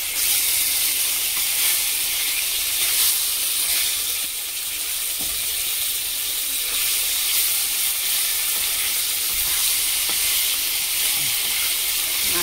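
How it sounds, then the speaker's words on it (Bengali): Pieces of bhangon fish fry in hot oil, giving a loud, continuous sizzle and hiss that holds steady throughout with no talking. "তেল গরম হয়ে গেছে, মাছ তুলে দিচ্ছি।"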